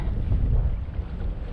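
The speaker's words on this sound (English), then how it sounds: "the wind's starting to pick up again" Steady wind blows over open water during a kayak bass fishing tournament, a continuous low roar and buffeting against the microphone with no voices.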